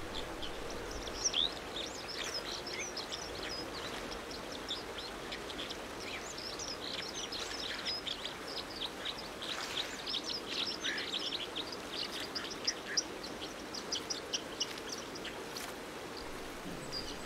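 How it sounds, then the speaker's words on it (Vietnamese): A white-throated dipper calling beside a half-frozen Arctic stream in spring, repeated sharp high calls over a steady rushing water background, moderately distant. "Chim lội suối họng trắng, không để phí thời giờ."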